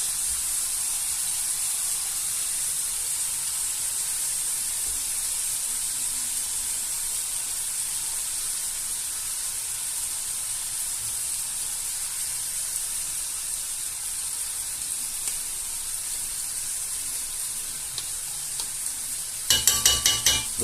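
Turkey escalopes fry in a pan with crème fraîche stirred in, giving a steady, close sizzling hiss that runs unbroken throughout, with a few brief clinks and scrapes of stirring near the end.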